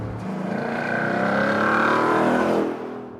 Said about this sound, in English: will we have a car that's got a 5-litre normally aspirated V8